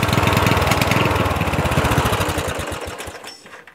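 Lawn tractor engine running steady at low idle with a rapid, even chugging pulse, loud and close, fading and sputtering toward the end; the tractor has a poorly grounding ignition that makes it lack spark at low throttle.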